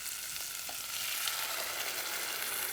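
Passata added to a pan of frying onions and garlic, giving a steady, close, broadband sizzle that holds level throughout with a few faint knocks.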